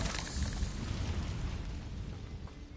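Incendio fire spell in Hogwarts Legacy, a dense roaring whoosh with a low booming body that swells briefly and then gradually fades, with no voices over it.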